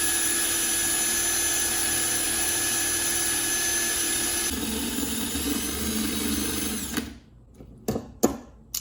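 A hammer drill runs loud and continuous for about seven seconds, its pitch dropping partway through, then cuts off, followed by a few sharp knocks and clatters.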